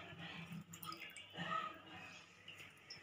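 Bread slice dipped in water while making dahi vada, giving soft wet squishing and faint dripping close by, with brief kitchen clatter and no clear speech.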